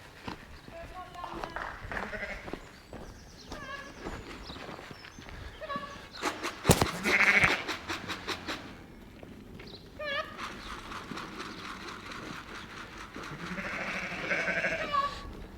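Sheep on a farm bleat in scattered bursts, some near and some farther off, mixed with hoof clatter and movement. People talk at times, and a sharp metallic bang stands out midway.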